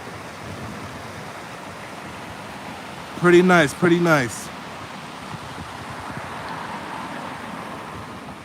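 River water flows below a viewpoint as a steady, broad rushing wash heard from a distance, with wind buffeting the microphone and a brief remark from a man partway through.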